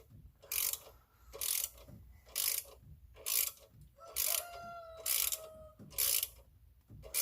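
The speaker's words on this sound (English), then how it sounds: "I'm only using a 1/4 inch ratchet" Rhythmic ratcheting from a 1/4 inch ratchet working coil pack bolts loose on a 1999 Ford F-150 4.6L, about eight regular bursts of clicking with short pauses, close and clear with no talking.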